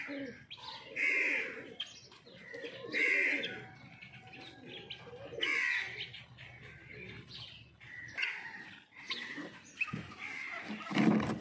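Pigeons at a village loft coo and chirp in repeated bursts, fairly close, with low background noise and no clear speech.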